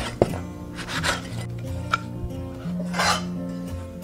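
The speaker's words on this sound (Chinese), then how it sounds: "把洗好的酸菜斜刀切片" A knife slicing washed pickled mustard greens at an angle on a board in a home kitchen, with a few close, soft cuts and light clatter against a steady background hum.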